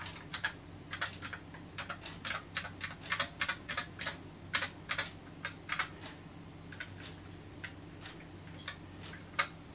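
Keys on a repaired Commodore SX-64 portable computer keyboard being pressed one after another, a steady run of sharp, close plastic clicks and taps with uneven spacing over a low background hum, with no talking.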